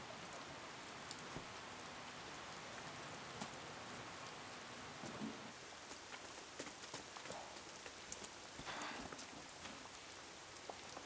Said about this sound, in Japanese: 今朝から雨だったろ